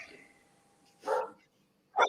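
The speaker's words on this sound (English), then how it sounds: "You hear the dog?" A dog barks twice in short, sharp bursts nearby, separated by a brief pause, after a faint trailing whine.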